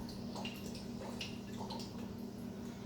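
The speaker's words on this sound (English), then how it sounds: "I have some plain water here and in a cup with a straw, and I'm going to see if I can just make bubbles with just plain water." Air blown through a straw into a cup of plain water, bursting into soft, irregular bubbling and gurgling close by, with small splashy pops scattered over a few seconds and no talking.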